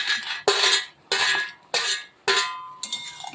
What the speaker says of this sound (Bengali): এখন আমি এখানে এই যে ভাজা বড়িগুলি দিয়ে দিচ্ছি,